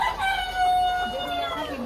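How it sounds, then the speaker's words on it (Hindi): A large rooster crows once on a village farm, a drawn-out strained call close by, with chatter and background voices around it. "ये देखिए मुर्गा सबसे बड़ा मुर्गा"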